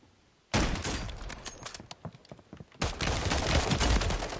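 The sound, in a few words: gunfire in a video game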